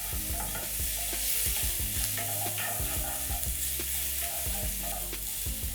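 Onions fry in about a tablespoon of cooking oil for a chicken gizzard dish, a loud, continuous sizzle close up with repeated stirring scrapes and utensil knocks, no voices.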